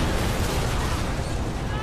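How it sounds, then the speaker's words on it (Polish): Loud, dense explosion blast in the video game Far Cry 4, a sustained broadband roar filling the whole moment with no quiet gap. "Tutaj coś wybuchło."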